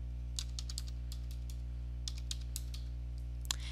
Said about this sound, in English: Type in the city, state, and zip code.